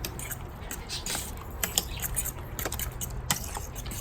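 A spoon stirs shrimp ceviche with lots of lime juice in a bowl, giving a run of light metallic clinks and scrapes that are quiet and irregular, with no voices.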